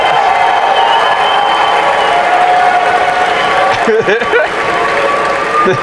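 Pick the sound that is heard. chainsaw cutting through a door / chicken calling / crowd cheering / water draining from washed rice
crowd cheering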